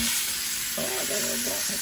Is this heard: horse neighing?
no